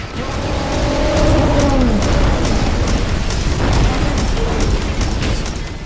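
A decoy in Metal Gear Solid V is shot and bursts with a loud, sustained booming rumble, a dense explosive roar filling the whole moment with faint tonal whines sweeping through it.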